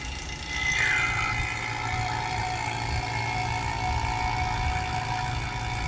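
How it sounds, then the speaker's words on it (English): An A/C service pump hums steadily on a 2012 Subaru Outback with a bad A/C compressor, a constant mid-pitched mechanical drone with a faint whine, running alone without pause. "Now we're going to run the pump for at least an hour."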